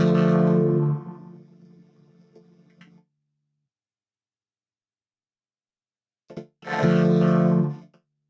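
A Microkorg synthesizer's vocoder sound with a slow gate decay: two loud, harmonically rich bursts separated by silence, the first trailing off gradually over a couple of seconds before cutting out, the second starting abruptly after a short blip.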